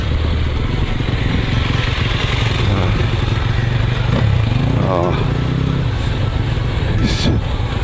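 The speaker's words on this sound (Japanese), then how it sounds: "すごいバイク来るね" An off-road motorcycle rides along a stony riverbed. Its engine rumbles and clatters up close, and another motorbike seems to pass with a brief rising drone. A rider talks over the noise at times.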